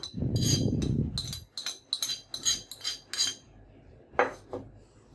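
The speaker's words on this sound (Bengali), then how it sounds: "এবার আমি সবগুলো উপকরণ একসাথে ভালোভাবে একটু মিশিয়ে নেব" Pakora batter of water lily leaves and turmeric is worked together in a bowl, with a run of clinking, scraping metal-and-dish knocks in quick irregular bursts, fairly close and with no talking.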